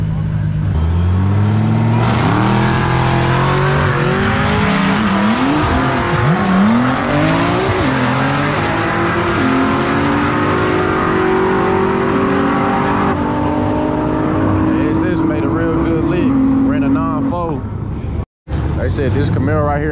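Sixth-generation Chevrolet Camaro SS launching down a drag strip at Texas Motorplex, a loud V8 climbing through rising gear sweeps with shifts, then fading into the distance, with voices over it.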